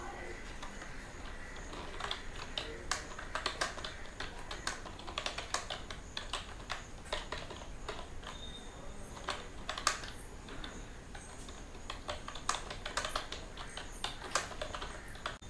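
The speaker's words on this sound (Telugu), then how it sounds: "ఇక్కడ ఒక సెంటెన్స్ నేను టైప్ చేస్తాను." Typing a sentence on a computer keyboard in a word processor, with steady quick key clicks running throughout over a faint background hum, close and moderately quiet.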